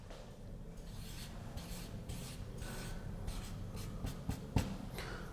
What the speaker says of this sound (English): I'll write a few of them up.